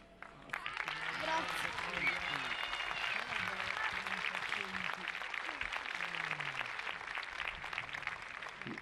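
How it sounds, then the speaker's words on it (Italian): A crowd at a town festival applauds after a performance by local folk groups, a long dense patter of clapping at moderate distance, while people talk over it throughout. "Io aspettavo un applauso più lungo, più caloroso"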